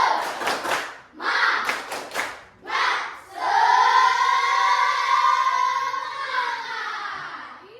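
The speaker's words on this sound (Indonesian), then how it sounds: "sekali lagi tepuk semangat" A classroom of students performs a rhythmic 'tepuk semangat' clapping chant, several sharp clap bursts at first, then a sustained, loud, harmonic group shout or chant carrying on to the end.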